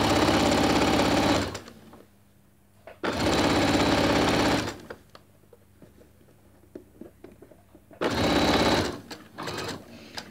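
A sewing machine stitches a mitred seam in fabric in three loud, close bursts of rapid mechanical whirring, separated by quiet pauses with small handling clicks and rustles.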